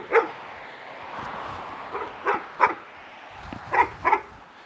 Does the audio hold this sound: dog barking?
yes